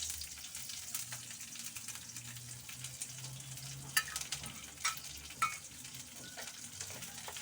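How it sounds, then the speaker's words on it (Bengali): Chopped onions sizzling steadily in a pan of hot oil with black cumin seeds, a continuous close frying hiss with a few sharp crackles and stirring clicks. "এইগুলো একটু গোল্ডেন কালার করে ভেজে নেব।"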